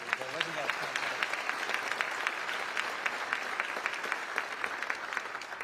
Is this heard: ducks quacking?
no